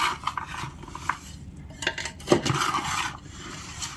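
Pickle is mixed with mustard powder in a bowl, producing intermittent close scraping and clinking strokes of a utensil against the bowl, with uneven bursts and short pauses.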